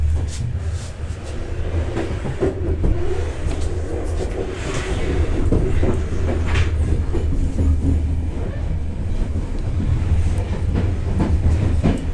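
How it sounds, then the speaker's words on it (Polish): A passenger train on a trip to Ukraine rolls into its final station, a steady loud rumble of wheels and carriages with faint clickety-clack throughout. "Stacją końcową pociąg kończy bieg"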